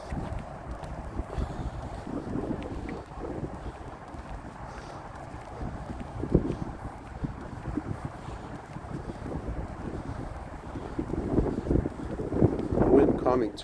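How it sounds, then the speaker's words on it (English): Gusty outdoor wind buffeting a microphone on a woodland trail walk, a continuous low rumbling roar with stronger bursts throughout and no clear voices. "we're getting a little wind on us right now"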